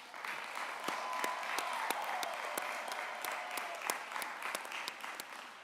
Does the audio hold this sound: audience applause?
yes